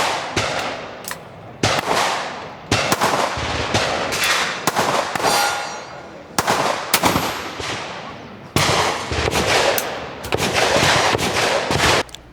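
Sharp, loud shotgun blasts from a .410 at an outdoor shooting event, roughly seven separate reports at irregular intervals, each ringing out briefly before the next shot.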